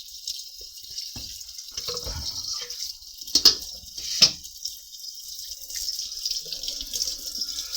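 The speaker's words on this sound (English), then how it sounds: "The easiest way is to wash the colander as soon as you're done using it." A running kitchen tap hisses steadily as a colander is rinsed under it, with a couple of sharper splashes or knocks partway through and the water flow swelling toward the end.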